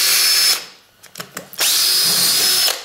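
A battery drill whines at full speed as it bores a hole through a piece of scrap material, two sustained bursts separated by a few short stop-start pulses of the motor.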